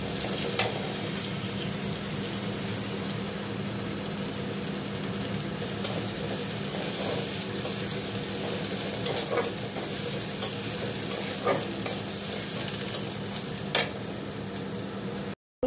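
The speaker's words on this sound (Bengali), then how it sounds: "পেঁয়াজ কুচিটা একটু ব্রাউন হওয়া পর্যন্ত আমি এভাবে ভেজে নেব" Chopped onions fry in mustard oil with a steady close sizzle, broken by intermittent scrapes and taps of a spatula stirring the pan, no voices.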